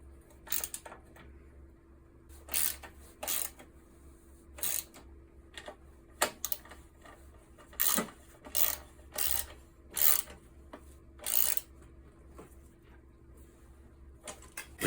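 Bolts on the engine cover of a Briggs and Stratton small engine, 3/8 inch, tightened with a ratchet: a quiet series of short, sharp clicking bursts in uneven groups, close by with no talk.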